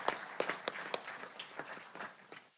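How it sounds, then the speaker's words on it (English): Scattered, sparse applause from a small audience honoring county staff at a Board of Supervisors meeting, a few distinct claps spread over a couple of seconds in a quiet room. "if we could give them a round of applause for all of their hard work"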